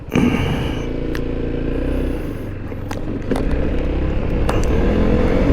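A Yamaha Xmax 300 scooter being ridden at lunchtime, its engine humming steadily and loudly up close with wind rush and occasional clicks and rattles over the top.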